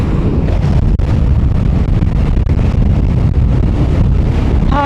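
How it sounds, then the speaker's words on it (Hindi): Strong wind roars loud and continuous across the microphone during a solo motorcycle ride in Nepal, a dense rushing buffet with no speech. "ये देखो कितनी ज़ोर से हवा की आवाज़ आ रही है।"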